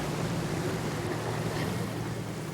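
Stormy sea waves roll and crash around a storm-stranded fishing boat, a loud, dense roar of surf and wind that stays constant, with no talking.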